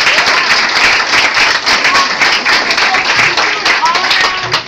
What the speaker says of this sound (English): You guys clap your hands.